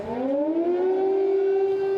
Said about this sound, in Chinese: 乌克兰首都基辅加罗传出空袭警报